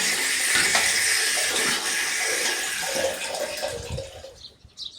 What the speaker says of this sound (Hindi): ये जो पानी इसके अंदर चालू हो चुका है